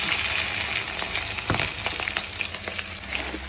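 Finely chopped onions with green and red chillies frying in hot oil for a sweetcorn snack, a close, continuous sizzle with crackling pops and occasional stirring scrapes.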